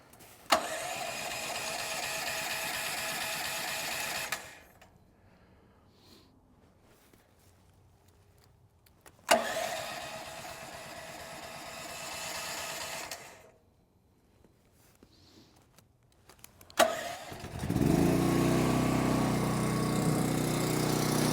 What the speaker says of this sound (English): all we got to do is hit this button twice, the start-stop button, and it'll attempt to start.